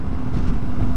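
Steady, loud wind roar buffets a lavalier microphone on a motorcycle riding down a country road through fields with the helmet visor open, a dense low rumble with no talk.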